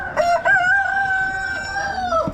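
Silver duckwing Old English roosters crowing at an Amish animal auction: one long, loud, sustained cock-a-doodle-doo held steady near the listener, with faint crowd murmur underneath.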